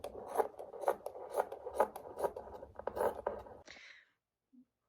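Scissors snip through dress fabric in a quick series of about eight or nine close, crisp cuts, followed by a short rustle and then near silence, while sewing a no-pattern cottagecore dress sleeve piece.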